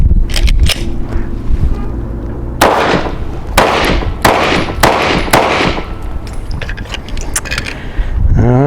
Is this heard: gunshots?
yes